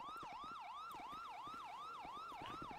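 A police car siren wails in a Batman-themed video game, with a steady, continuous up-and-down cycle that is clear and loud throughout.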